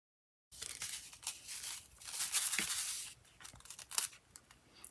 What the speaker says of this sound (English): now we can take our scissors and take that tear and tape cover off.